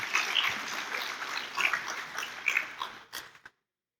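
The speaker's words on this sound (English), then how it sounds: "Please give them one more round of applause." Audience applause at a Bharatanatyam arangetram dance recital in the USA, a crowd clapping steadily with a few sharper claps standing out, then tapering off and cutting to silence.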